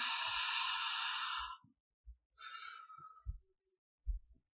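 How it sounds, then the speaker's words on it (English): A person takes a deep breath, a long close airy inhale followed by a second shorter breath, separated by quiet gaps with soft low thumps. "Take a deep breath right now,"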